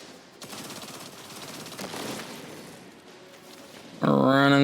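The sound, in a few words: gun firing in the video game Destiny 2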